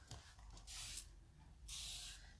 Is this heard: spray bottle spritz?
yes